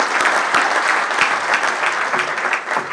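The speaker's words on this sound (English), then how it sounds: "I think we all owe a little bit of applause to the folks who put this together" Steady applause from an audience at a sports hall of fame induction ceremony, a dense, even patter of many hands clapping close by, sustained throughout with occasional sharper claps standing out.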